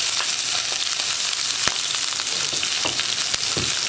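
Ginger and green chilli sizzling steadily in hot coconut oil after mustard seeds have popped, a dense close crackle with a few sharper pops and stirring clicks throughout, no voices.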